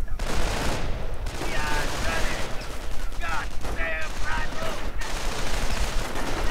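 MG-42 machine gun fire in a WWII strategy video game, with dense overlapping bursts of rapid gunfire and explosions filling the mix and no break.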